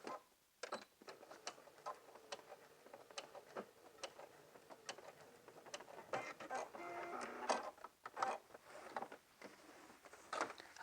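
A sewing machine stitches the seam of a lined pencil skirt in quick rhythmic bursts of clicking stitches, fairly faint and close, with short stops between runs.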